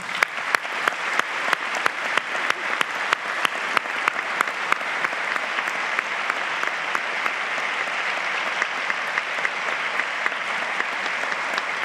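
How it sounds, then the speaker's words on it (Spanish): Loud, sustained applause from an audience at a national gathering, honoring a team of youth volunteers; dense clapping that holds steady and continuous from start to finish. "A nuestro equipo de jóvenes voluntarios, un aplauso enorme"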